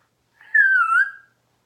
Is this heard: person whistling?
yes